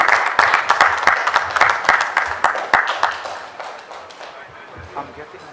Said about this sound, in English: Applause again for Calypso.